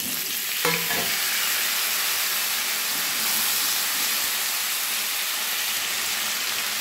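Pointed gourd and potatoes fry in an oil-filled pan, giving a steady, close sizzle with a brief stirring clatter near the start; no one speaks.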